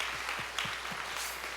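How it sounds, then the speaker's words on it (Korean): A congregation applauding at a Wednesday evening church prayer service, a steady wash of clapping from many hands heard from a distance, with a few soft thumps beneath it. "박수로 한번 우리 감사 표현했으면 좋겠습니다."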